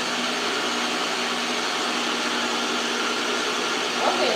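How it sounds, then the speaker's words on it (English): A food processor runs steadily while mixing dough for Nigerian gala sausage rolls, giving a continuous close whirring motor drone with no pauses and a slight bump near the end. "Turn on your food processor, put it into a dough,"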